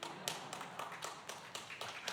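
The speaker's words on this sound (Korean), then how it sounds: "박수 그만 치셔도 됩니다." Church congregation applauding in a sparse, fading patter, a handful of distinct claps spaced irregularly, faint and somewhat distant during a sanctuary dedication thanksgiving service.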